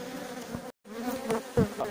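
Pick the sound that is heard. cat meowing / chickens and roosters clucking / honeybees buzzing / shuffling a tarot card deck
honeybees buzzing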